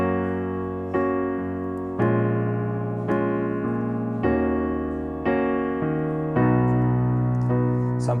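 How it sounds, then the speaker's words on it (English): Solo piano chords from a song, struck one after another at a slow, even pace, each one ringing and decaying before the next, played clearly and alone. "And yeah, so just playing through those chords, it'll sound like this."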